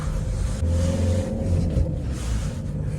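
A Volvo S diesel car pulls away in first gear, its engine giving a steady, close low rumble that rises slightly as it moves off.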